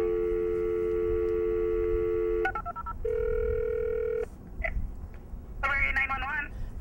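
Telephone call to campus dispatch: a sustained steady tone, a brief burst of dialing beeps, a second tone, then a warbling ring signal, with speech faintly around it.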